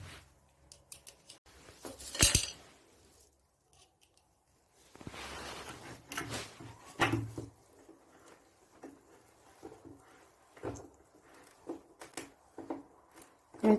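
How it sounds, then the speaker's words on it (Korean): Screws being tightened by hand while a padded chair seat and its legs are reassembled, giving faint scattered clicks, scrapes and rustles with a few sharper knocks, close by and quiet. "처음에 풀어두었던 피스를 다시 조여서 상판의 쿠션 부분과 해체했던 다리 부분 다시 조립해 주시고요"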